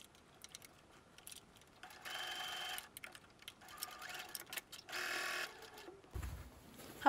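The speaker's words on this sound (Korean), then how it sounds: "겉감의 겉과 안감의 겉이 마주보도록 겹쳐준 후 양옆의 시접을 잘 맞추어 고정해줍니다. 1cm 간격으로 합봉해주세요." Sewing machine joining the seams of outer fabric and lining for a small bag or pouch, running in two short bursts of rapid mechanical stitching, each with quiet handling noises between them and a clunk at the end.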